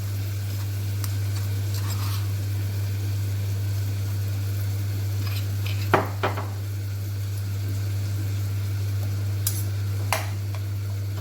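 Potatoes and tomatoes with ground garlic chutney stirred in a pan, a soft continuous sizzle with occasional scraping clinks of a spoon over a steady low hum, no talking.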